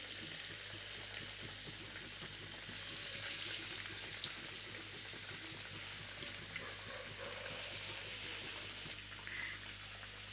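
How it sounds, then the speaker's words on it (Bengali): Bombay duck fish chops deep-frying in plenty of hot oil over a medium flame, with a steady crackling sizzle that bubbles on throughout, fairly close and without talk. "চপটা ভাজতে একটু তেল বেশি লাগবে যেন চপটা তেলের ভেতর ডুবে ভাজাটা হয়"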